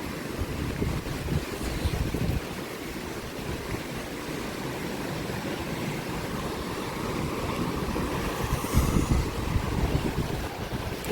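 Strong sea waves surge and break on a Jaffna beach after a cyclone, a constant rough roar heavily mixed with gusting wind buffeting the microphone.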